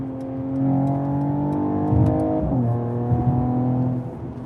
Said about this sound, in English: the burbles, the note that they created here is very good